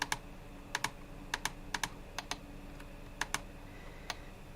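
Keyboard typing on a computer keyboard set with rapid trigger, heard as a few sparse pairs of sharp keystroke clicks spread over a quiet background hum, with no talking.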